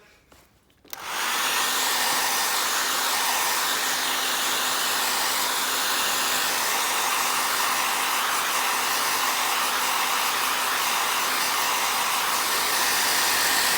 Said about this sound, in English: Give that a quick dry with the hairdryer.